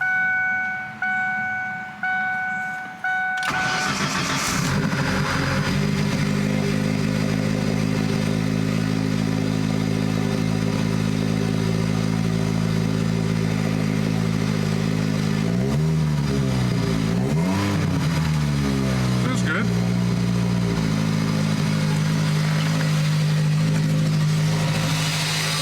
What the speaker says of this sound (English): Intake noise.